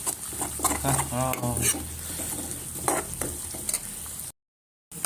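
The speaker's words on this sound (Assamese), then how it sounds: "এইখিনি অলপ টাইম এনেকৈ ভাজি থাকোঁ।" A spatula scrapes and stirs ginger, garlic and chili through sizzling oil in a pan, repeated strokes close up, then a brief cut to silence.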